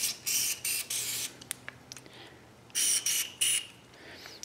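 Ballistol sprayed into a revolver bore in short aerosol bursts, several quick hissing sprays close up with quiet gaps between them.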